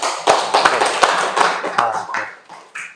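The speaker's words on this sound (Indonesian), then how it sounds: "Tepuk tangan untuk semuanya." A classroom claps together in sustained, dense applause for about three seconds, near and loud, tapering at the end.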